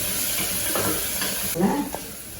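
Ivy gourd and other vegetables sizzle and crackle in a hot pan with a steady hiss, punctuated by a few scraping stirs and louder bursts near the end.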